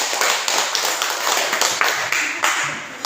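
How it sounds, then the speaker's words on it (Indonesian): A classroom audience claps in a short, uneven burst of sharp, close hand claps at a teaching practice session, with no voices heard. "Silakan berikan tepuk tangan untuk."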